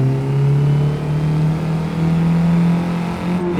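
Mazdaspeed3 hot hatch engine droning steadily at high revs during a three-lap race, a loud, sustained near tone that barely changes pitch throughout, with no talking.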